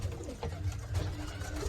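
Racing pigeons in a rooftop loft in Gujarat give a soft, low coo through a steady background murmur, close by and with no one speaking.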